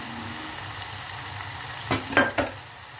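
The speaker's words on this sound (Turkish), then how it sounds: "patatesimi de şöyle bir karıştırıyor. Güzelce kızarsın her tarafı." Potatoes fry in a pan with a constant close sizzle while a utensil stirs them, scraping three times in quick succession near the end.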